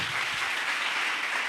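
A church congregation bursts into applause, a dense, continuous wash of clapping hands that fills the whole short moment at moderate volume.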